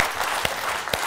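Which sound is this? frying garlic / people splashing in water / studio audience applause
studio audience applause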